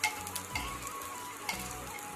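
Garlic tempering for dal sizzles and fries in a pan, a steady crackling hiss with a couple of brief stirring scrapes, close and fairly quiet, with no talking.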